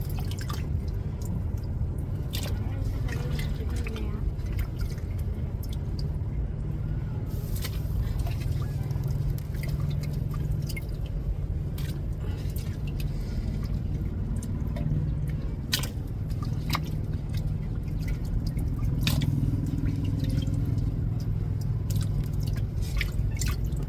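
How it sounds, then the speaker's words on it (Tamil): Fish goes into a boiling fish curry on the stove, giving a steady low bubbling and simmer with scattered soft drips and splashes, close and continuous over the whole stretch, with no speech. "குழம்பு நல்லா கொதிச்சுட்டு இப்போ மீனை சேர்த்துருவோம்"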